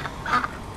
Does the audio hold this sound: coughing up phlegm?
no